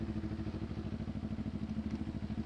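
A motorcycle fitted with an open exhaust pipe idles close by, giving a steady, low, pulsing rumble with a faint mechanical clatter, no voices.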